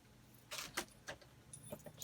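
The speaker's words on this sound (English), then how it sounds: "Just a normal set of keys" An ordinary set of keys jangles close by in a few quick, bright metallic bursts, with quiet gaps between the shakes.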